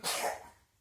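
A single short sneeze, close and fairly soft, bursts out and fades within a second.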